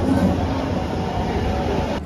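A MEMU Express train pulling into a station, a close, steady rumble of wheels on track and carriages rolling past, with no voices.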